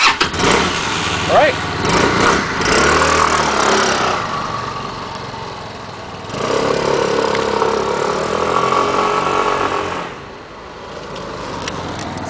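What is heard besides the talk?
Linhai Aeolus scooter engine starting and idling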